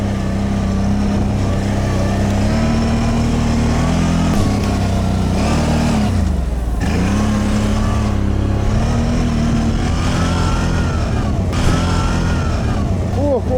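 Quad bikes riding through deep snow, an ATV engine droning loud and close with pitch rising and falling as it revs, briefly dipping and recovering midway.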